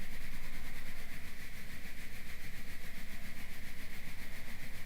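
An instrument played faster to imitate a train, giving a steady rapid pulsing chug with a sustained hum, loud and close, running alone without talk.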